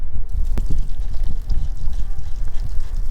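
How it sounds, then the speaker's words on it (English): Water pouring and splashing over a portable on-the-go water softener tank to rinse soap off its top, a steady close rush of running water for the whole stretch with a few sharper splashes. "I'm gonna do a quick rinse just to get the soap off the top of it"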